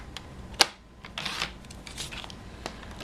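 A paper trimmer slices a cardstock square in half, giving one sharp snap near the start followed by softer scraping and sliding sounds of the blade and paper, close and quiet.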